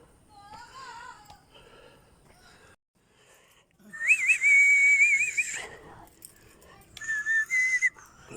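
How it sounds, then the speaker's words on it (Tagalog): A person whistling while climbing stairs up to Sky Plaza in Natividad, Pangasinan, two bright wavering bursts of near whistling separated by a pause, with faint breathing and movement sounds between. "sipol-sipol lang po para hindi halatang pagod"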